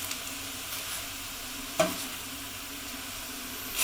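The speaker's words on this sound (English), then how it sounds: "I'm going to give them a stir." Vegetables releasing their juices fry in a pan with a soft, steady sizzle, broken by a short scrape of a spoon stirring them partway through and another near the end.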